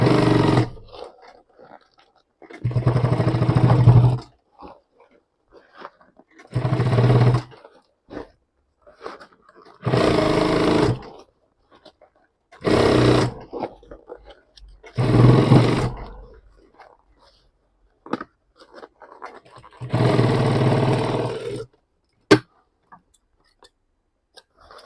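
A sewing machine stitches along the edge of a bag made from jeans in several separate runs, each a few seconds of steady whirring and buzzing, with pauses and small clicks in between and no talk.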